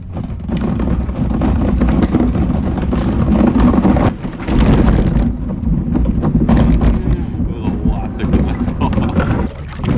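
Strong wind roars steadily over the microphone on a small red fishing kayak on open water, a loud, continuous buffeting rush that drops out briefly near the middle before resuming.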